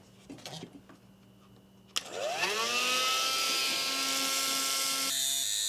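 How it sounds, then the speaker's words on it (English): Dremel rotary tool cutting through a screw or fitting on a film production power cart: a few light knocks, then a loud high-pitched whine that spins up and holds steady for about four seconds before its pitch drops near the end. "Let's finish it with the Dremel."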